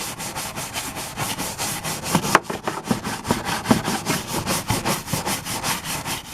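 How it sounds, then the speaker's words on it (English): Brush scrubbing a greasy car engine coated with a homemade degreaser cleaner, fast rhythmic back-and-forth strokes repeating steadily, close and fairly loud with no talk. "Let me see if I can scrub it."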